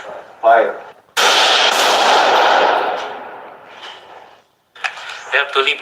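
A single loud gunshot-like blast bursts out during a live-fire firefight at a target hole, trailing off into a long decaying rumble, with short bursts of talk before and after.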